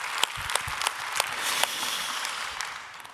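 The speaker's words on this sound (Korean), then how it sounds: "우리에게 은혜 주시는 좋으신 하나님께 박수로 감사합니다" A church congregation applauding, dense continuous clapping at moderate distance in a hall, with a few sharper individual claps standing out, lasting a few seconds.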